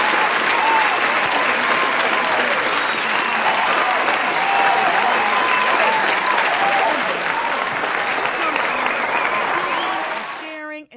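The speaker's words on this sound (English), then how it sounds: "Keep clapping." Studio audience clapping steadily and loudly at a live talk show taping, a dense, sustained applause that carries on without a break before cutting off at the end.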